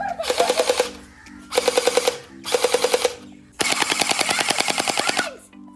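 An Orbeez gel blaster toy gun fires in four rapid bursts, each a quick rattling string of sharp clicks, separated by short pauses, with the final burst the longest.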